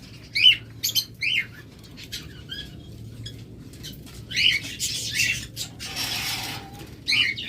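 White ringneck parakeets with black neck rings squawk in short, harsh bursts that repeat every second or two, fairly close, over a steady low background hum.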